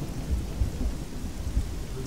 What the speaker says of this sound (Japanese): そう急に土砂降りになってきたな